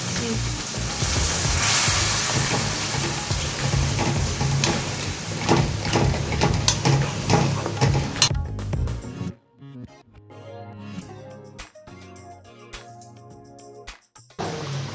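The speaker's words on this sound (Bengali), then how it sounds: "এখানে আমার মাছের সেদ্ধ ঝোল একদম তৈরি হয়ে গেছে, একটু ফুটে এলেই এটাকে নামিয়ে নেব।" A pot of fish curry bubbles and sizzles on the stove, a steady loud crackle that suddenly drops to quieter pops and clinks near the end.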